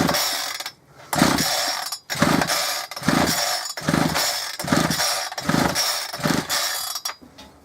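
A Sabre chainsaw with a choke problem, its engine sputtering in repeated short bursts that catch and die, with brief gaps between each pull, loud and close.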